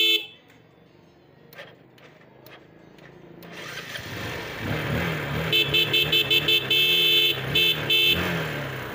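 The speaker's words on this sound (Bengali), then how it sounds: "গাড়িটা স্টার্ট দিছি, ভালো করে দেখবেন" A Bajaj Pulsar 135 motorcycle with a smoking engine starts up after a quiet stretch, then idles and revs with a steady, close exhaust note while short higher pulses sound repeatedly over it.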